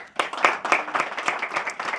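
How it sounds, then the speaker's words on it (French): A small group claps at an evening gathering of a European and Malagasy association, with sparse, distinct hand claps in an uneven rhythm for two seconds, moderately close. "On peut l'applaudir encore."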